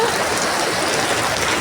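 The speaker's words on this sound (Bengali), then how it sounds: "খুবই বৃষ্টি হচ্ছে।" Dense, steady heavy rain pours down onto a home courtyard, a continuous close hiss of drops striking surfaces with no pauses.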